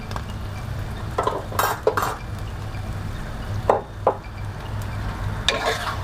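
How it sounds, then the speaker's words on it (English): A spatula stirs Cantonese tofu and beef with oyster sauce and light soy sauce in a hot pan, giving several sharp scraping and clinking strokes over a low, constant sizzle, with no speech. "Just stir. Okay, and just stir it up."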